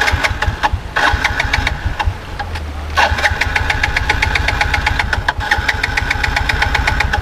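A motorcycle engine chugs and sputters roughly up close, faltering and nearly dying partway through before rattling on unevenly, while stalling beside a river.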